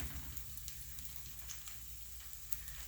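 Tofu croquettes fry in a pan with a steady, soft sizzle and crackle that holds at a constant low level with faint pops.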